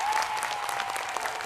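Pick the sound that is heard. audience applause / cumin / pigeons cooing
audience applause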